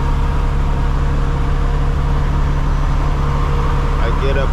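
A dump truck hauling recyclable concrete drives in 7th gear, its engine a loud, steady drone that fills the whole stretch without a break.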